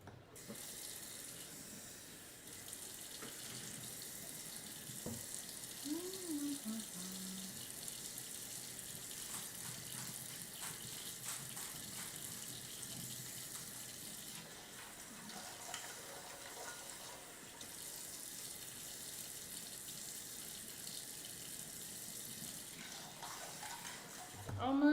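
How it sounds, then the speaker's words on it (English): Water from a kitchen tap runs steadily into a pot for cooling eggs after the boiling water is dumped, a faint continuous splashing stream with brief clinks. "I'm gonna dump out the boiling water and add some cold water."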